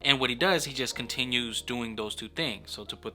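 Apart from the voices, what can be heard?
No everyday noises stand out.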